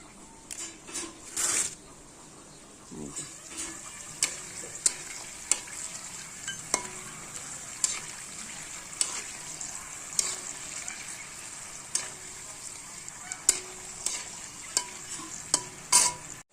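Sweet potato chips frying in oil while being stirred, with a steady sizzle under regular, sharp scraping clicks from the stirring utensil, close and fairly quiet.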